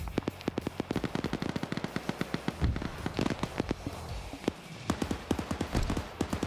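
Rapid gunfire from a sandbagged bunker in a video game, with steady volleys of sharp cracks through the whole stretch, sometimes in quick bursts, sometimes in single shots, over a low rumbling background.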